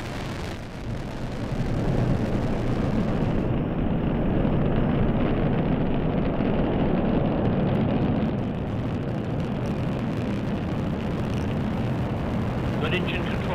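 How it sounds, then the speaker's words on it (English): A rocket carrying an Orion capsule lifts off at dawn with a continuous deep, rumbling roar that swells and holds. Broadcast commentary talks over it throughout. "And liftoff at dawn."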